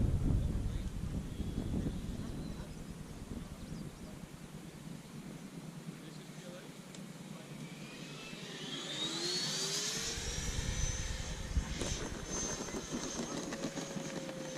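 A Freewing 90mm F-22 electric ducted-fan RC jet lands, its turbine-like whine sweeping up and down in pitch over the last few seconds against steady wind-blown broadband noise.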